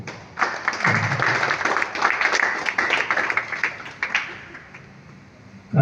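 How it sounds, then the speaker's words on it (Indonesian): Audience clapping at the opening of a Muhammadiyah student association cadre training, scattered and uneven hand claps from a modest crowd that rise and thin out over several seconds. "Tepuk tangan dulu."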